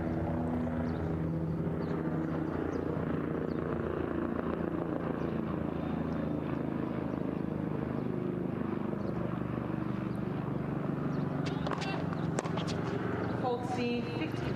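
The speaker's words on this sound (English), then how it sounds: "You might be able to hear the passing aircraft." A passing aircraft drones steadily overhead during an outdoor professional women's tennis match, a continuous broadband roar that holds through the whole stretch, with faint crowd and court sounds near the end.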